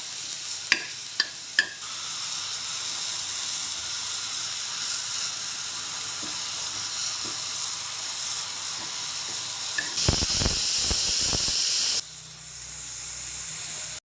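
Grated coconut roasts with onion in a pan, a steady sizzle and hiss running throughout, with a few sharp scrapes at the start and a cluster of stirring clatters near the end.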